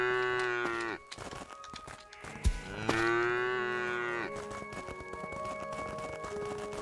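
Cows on a farm in the video game Craftopia moo loudly and close, with a long low call, a second drawn-out moo in the middle and a steady machine-like hum underneath.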